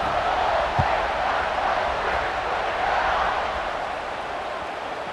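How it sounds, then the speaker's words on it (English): Stadium crowd in a college football video game roars steadily as a broad, sustained wash of cheering at moderate loudness for several seconds. "this crowd is feeling themselves after that last drive"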